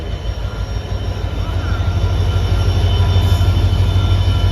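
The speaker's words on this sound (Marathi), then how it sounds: "ट्रेन येली बघा." A slow train pulls into a station in Malgaon, its steady loud rumble of wheels and rail noise filling the scene close by.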